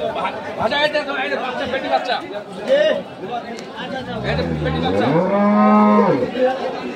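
At a cattle haat in Kaharol, Dinajpur, where dairy cows are sold with calves, a cow gives one long, loud moo close by after a stretch of crowd chatter and talking.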